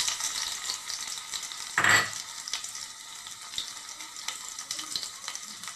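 Crushed garlic and ginger frying lightly in a pan, a steady soft sizzle throughout with a brief louder scrape or clatter of stirring near the middle.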